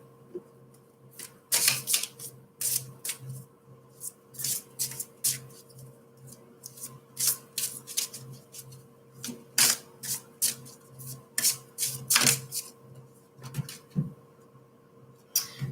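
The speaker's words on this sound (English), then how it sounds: "Got the angel oracle cards here." Angel oracle cards are shuffled in a series of quick, crisp riffles and slaps, coming in irregular bursts close to the microphone over a faint steady hum, with no talking.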